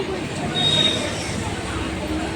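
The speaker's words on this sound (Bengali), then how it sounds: "এবার আমাদের ট্রেন ছাড়তে শুরু করেছে" A passenger train pulls away from the platform with a low rolling rumble and a faint metallic squeal. People chatter nearby throughout.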